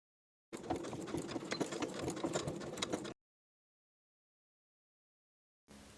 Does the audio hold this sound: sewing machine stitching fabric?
yes